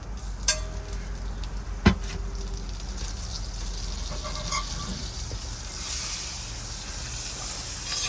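Butter sizzles in a cast iron pan outdoors, a soft, steady frying hiss broken by a couple of faint clicks and knocks.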